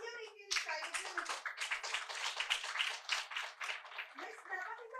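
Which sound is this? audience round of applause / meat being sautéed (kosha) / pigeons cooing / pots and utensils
audience round of applause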